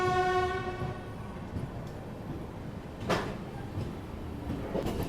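A passenger train, the Prayagraj Sangam Express, rolls along with a steady rumble of wheels on track, a sustained horn-like tone at the start and brief clanks of carriage fittings.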